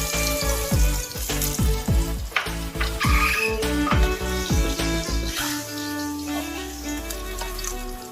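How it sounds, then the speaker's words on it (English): Beef sausage frying in a Teflon pan, steady sizzle broken by a rhythmic series of scraping, stirring knocks, then a lower hiss and hum toward the end. "We cook the sausage on the Teflon until it is brown."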